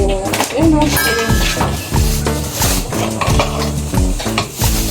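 Food is stirred in a pan in a small home business kitchen, with rhythmic scraping and clattering of a utensil against the pan and sizzling underneath, while people talk over it.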